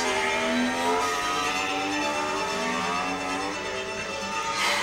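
BMW S1000RR ShiftCam superbike engine braking into a corner, a loud continuous engine note with descending harmonics as revs fall, steady throughout with no talk.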